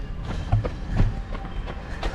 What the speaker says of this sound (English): These trams are quiet, they'll come up behind you.